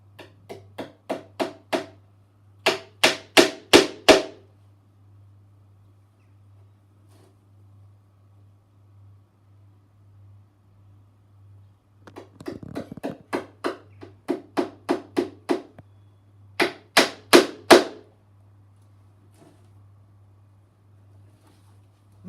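Tacks being hammered into the leather-covered rim of a shield, in quick bursts of sharp taps that accelerate into rapid runs, with quiet pauses between groups and a steady low hum beneath.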